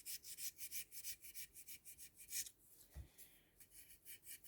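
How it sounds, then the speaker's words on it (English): Milliput epoxy putty being gently sanded by hand, a soft, dry scratching rubbed back and forth in quick, steady strokes, close and fairly quiet, with a brief bump partway through. "going against his head onto the milliput, and just gently sand"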